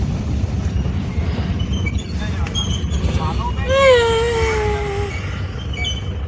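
A metro train in a station, heard as a steady low rumble with rising wheel squeals and a long whining tone, while people talk nearby.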